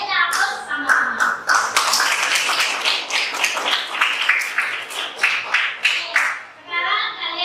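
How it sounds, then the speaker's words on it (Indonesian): Students in a classroom clapping together in a lively burst of rapid, overlapping handclaps, with children's voices mixed in as the applause fades. "Ayo kita aplaus sama-sama."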